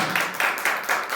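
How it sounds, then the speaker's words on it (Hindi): Congregation clapping in praise during a Hindi-language church service, a steady wash of many hands with rhythmic surges roughly every quarter second, fairly close and filling the space without any voices. "ताली बजा के प्रभु के नाम की तारीफ करो।"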